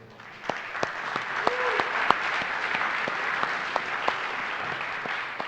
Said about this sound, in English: let's give a big round of applause for Alex up here.